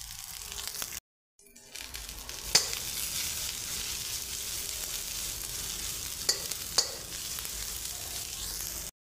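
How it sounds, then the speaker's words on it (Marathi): Grated coconut and coriander with cumin sauté in hot oil in a pan, a dense close sizzle broken by a brief gap and a few sharp clicks of a utensil, with no talk. "थोडं खोबरं, थोडी कोथिंबीर, हे थोडंसं मी परतवून घेणार आहे।"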